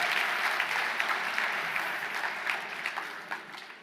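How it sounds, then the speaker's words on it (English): An audience claps in steady applause that starts full and gradually thins out, fading to scattered claps by the end. "Let's give her a round of applause."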